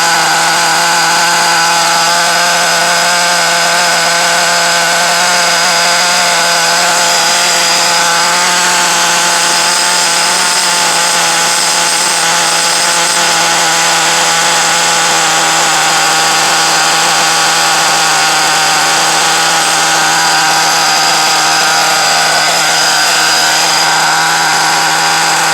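A freshly rebuilt Italian engine, fired up for the first time, runs loud and steady at close range, holding a constant buzzing, high-revving drone throughout with no pauses.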